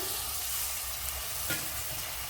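Ground spices sizzle and fry in a pan while lemon is added for a Kerala-style lemon pickle, a steady close hiss with a brief stirring scrape midway.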